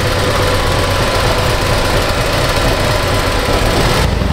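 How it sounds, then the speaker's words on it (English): Harley-Davidson Road Glide CVO ST motorcycle engine on a dyno, set to a custom track mode, roaring loud and steady at high revs through its exhaust, with a sudden cutoff near the end. "I want you guys to hear the exhaust as well because it sounds really good."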